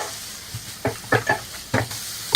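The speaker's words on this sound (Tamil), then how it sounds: "தேங்காய் போட்டு ரொம்ப நேரம் வதக்க வேணாம், சும்மா 1 நிமிஷம் நல்லா வதக்கினா போதும்." Beans being stir-fried with grated coconut in a pan for beans poriyal, giving a few short scraping and sizzling stir strokes spaced apart over a quiet background.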